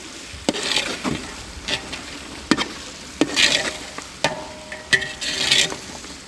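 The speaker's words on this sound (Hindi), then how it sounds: "खुश्क धनिया और साथ ही ग्रीन चिली भी ऐड कर देंगे ताकि ग्रीन चिली भी हमारी अच्छी तरह फ्राई हो जाए" Green chillies and dry coriander frying in oil in a home kitchen pan, a low sizzle broken by repeated sharp clatters of a spoon stirring and scraping, no voices.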